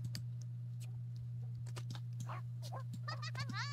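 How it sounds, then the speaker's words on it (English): A dog barks in The Sims 2, a few faint yelps in the distance near the end, mixed with quick clicks of keyboard and mouse over a steady low hum. "This dog is outside barking at me, even though he doesn't live here."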